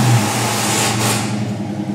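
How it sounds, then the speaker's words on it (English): A 2012 Dodge Charger SRT8 with a custom exhaust, its engine running with a deep steady rumble and a brief surge of throttle, close and fairly loud. "Give it gas."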